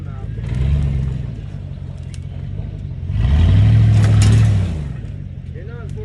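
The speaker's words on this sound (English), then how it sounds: "They're getting ready to pull her out of the weeds for the first time in, I don't know, 50 years, 40 years." A tractor engine labors as an old tractor is dragged out of weeds after decades, a steady low rumble that swells into a louder revving push midway, close by.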